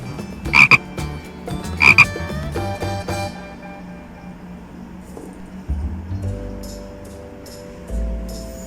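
A frog croaks in two loud bursts early on, then fainter croaks and calls follow over a steady outdoor background.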